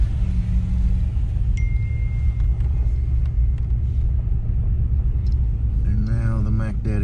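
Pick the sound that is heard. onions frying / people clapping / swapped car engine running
swapped car engine running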